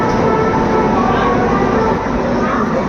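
The Sachkhand Express, train 12716 from Amritsar to Nanded, stands halted at Itarsi junction, giving off a loud, steady rumble of idling rail cars and station noise throughout, with no distinct clatter.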